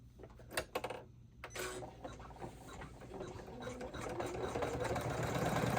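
An embroidery machine stitches an applique design on a hoop bag, starting with a few clicks and taps and then building into a steady, fast mechanical whirr that grows louder, with no talk.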